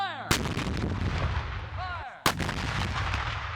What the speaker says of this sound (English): whereupon the gun immediately fires